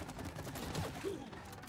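Gunfire from combat against an enemy in the video game It Takes Two, a dense, continuous burst of rapid shots and impacts with game effects filling the whole stretch, fairly loud and steady.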